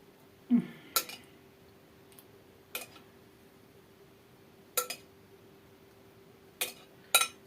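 A spoon clinks and taps against a dish and scrapes at intervals while sauce is scooped onto börek, giving a few separate, fairly quiet knocks in a quiet kitchen.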